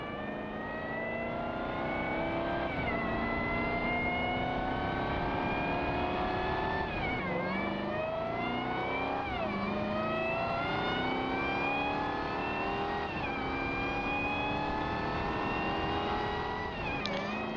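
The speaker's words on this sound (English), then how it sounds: "we're gonna listen to the sweet sounds of my supercharger" Supercharged tractor engine in Farming Simulator 19 revving loud and steady, with rising and falling pitch sweeps and a supercharger whine layered over the drone, no talk.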